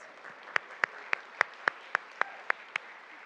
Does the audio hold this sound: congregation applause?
yes